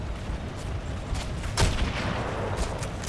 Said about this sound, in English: They're all shooting this way.